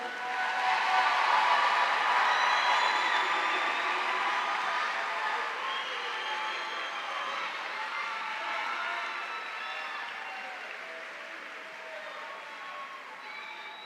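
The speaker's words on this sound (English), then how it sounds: "a big round of applause for our first half here" Applause from a large audience at the Havre de Grace High School 2025 commencement, a steady, dense wash of clapping that holds evenly for about fourteen seconds and tapers only slightly toward the end.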